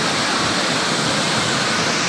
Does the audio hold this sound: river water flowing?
yes